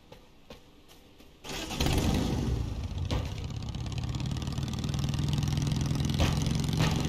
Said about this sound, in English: jump on a motorbike.